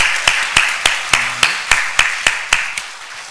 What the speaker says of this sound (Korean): 우리 경례 박수하겠습니다.